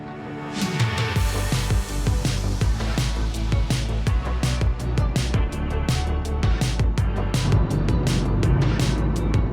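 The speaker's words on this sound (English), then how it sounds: "we're driving around in one of these" A rental car drives along a road between Zagreb airport and Slovenia, its steady, close engine and road rumble continuous throughout, with scattered bumps and knocks over the drone.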